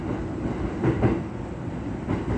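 Interior running noise of a JR E217 series train riding in car KuHa E217-23 on a special rapid service to Soga, a steady loud rumble with faint rhythmic wheel clacks over the rails, no voices.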